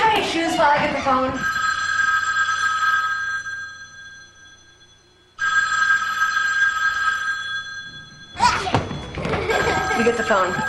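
A telephone in a TV advert rings twice in long, bright electronic trills separated by a pause, with people talking before the first ring and again after the second.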